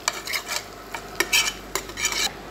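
Butter browning in a pan, stirred with a utensil: repeated close scraping strokes against the pan over a faint background sizzle, irregular in rhythm and moderately loud, with no talking.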